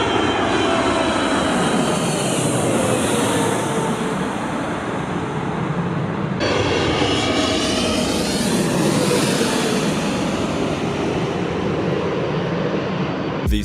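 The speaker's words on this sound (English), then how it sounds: "This is what planes flying through a thick fog looks like." Airplanes flying through thick fog, a loud, continuous jet engine roar filling the whole stretch, with a brief shift midway as the sound changes, steady and close throughout.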